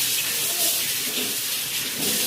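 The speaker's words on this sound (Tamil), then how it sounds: "இந்த மாதிரி நல்லா அலசி எடுத்து வச்சுக்கலாம்" Fish rinsed under a running kitchen tap gives a steady, close hiss of flowing water that carries on without a break.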